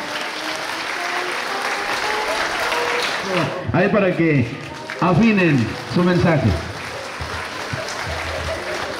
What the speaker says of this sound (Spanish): Vamos a recibirlos con un fuerte y caluroso aplauso.